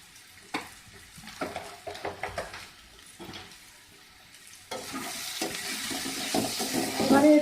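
Ash gourd in mustard sauce being stirred in a pan on a raised flame, with scattered scraping clinks of the spoon followed by a steady, brighter sizzle of frying that swells toward the end.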